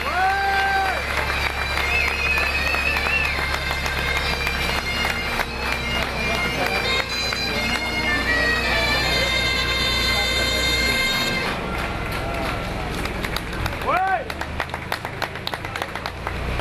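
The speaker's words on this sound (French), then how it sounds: "On l'applaudit très fort, ce tracteur breton" Crowd at a presentation of a Valtra A93 tractor in a Breton livery applauds and cheers steadily over loud music, with scattered shouts and a horn-like blast near the end.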